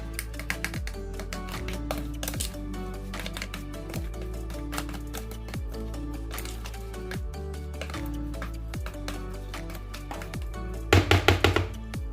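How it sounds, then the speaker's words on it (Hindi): Guava chaat with lemon juice, sugar, chili and salt is stirred in a bowl, giving repeated light taps and dull thunks in an irregular rhythm over steady tonal background music, with a quick cluster of sharper clicks near the end. "चीनी, मिर्च और नमक डाल देंगे। अब हम इनको मिक्स करेंगे।"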